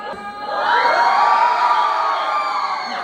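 An audience at a stage show shouts, whoops and cheers for a contestant named Sandeep, a loud sustained crowd roar with high-pitched children's voices that swells after a brief start and stays strong.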